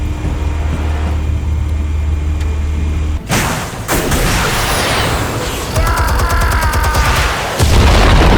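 Explosives detonating in the Batman Telltale Series game: a sudden loud blast cuts off a steady low hum, followed by crashing debris, rattling, and a second heavy impact near the end.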